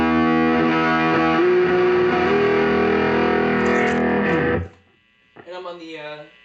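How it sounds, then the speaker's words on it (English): Distorted electric guitar from a Raven PRS-copy hollowbody played through a Fender Bassman 20 tube amp with a basic distortion circuit, EQ and drive set mid, ringing loud and sustained chords before cutting off, followed by a brief spoken voice. "the combination of the speaker and the tube amp sound with a distortion circuit"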